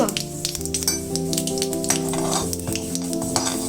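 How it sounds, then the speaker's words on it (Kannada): Mustard seeds, cumin and chana dal sizzling in hot oil, a close crackling fry with spattering pops over a steady tonal hum, no talking. "ಸಾಸಿವೆ ಸಿಡಿದ ತಕ್ಷಣ ಒಂಚೂರು ಜೀರಿಗೆ, ಆಮೇಲೆ ಕಡಲೆಬೇಳೆ ಒಂಚೂರು ಕಲರ್ ಚೇಂಜ್ ಆಗೋವರೆಗೂ ಬಿಟ್ಟು"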